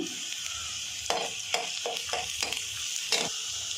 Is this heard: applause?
no